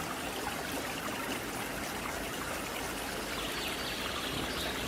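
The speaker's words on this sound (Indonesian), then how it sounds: "Ada air yang gemericik ini." Water gurgles and splashes over a small dam on a rocky river, a constant dense babbling rush that stays even and close throughout, with no voices.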